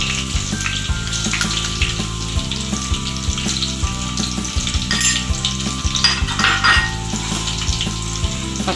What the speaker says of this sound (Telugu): పచ్చివాసన పోయేంత వరకు నూనెలో వేయించాలి.